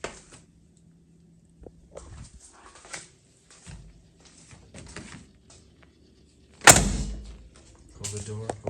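A car door on a black Mustang II Cobra II slams shut once, a loud close thud, followed by an old car alarm starting to sound; quiet handling noises and brief talk come before it.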